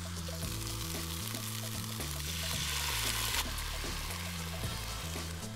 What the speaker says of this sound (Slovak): Teraz podlejeme horúcou vodou.